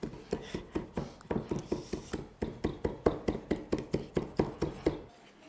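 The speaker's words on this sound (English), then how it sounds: "I'm gonna give this a bit of further chopping" A knife chops shiitake mushrooms rapidly on a cutting board, a steady run of quick, close taps with no talking.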